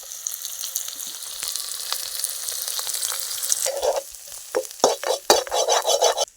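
Onions dropped into hot oil after chillies, cooked rustic village style, crackle and sizzle steadily, then bursts of louder spattering and scraping stirs follow near the end.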